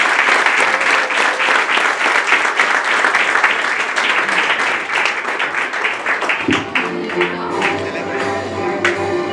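A congregation applauds at a church wedding ceremony, dense sustained clapping close and loud, with voices mixed in and a musical tone emerging near the end.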